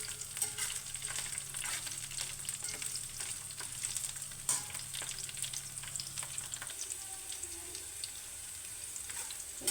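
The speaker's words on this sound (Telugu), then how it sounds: "ఈ ఆయిల్ కొంచెం వేయించాలండి." Ripe red chillies frying in oil in a pan, a steady broad sizzle with faint stirring scrapes running through, close and even throughout with no talk.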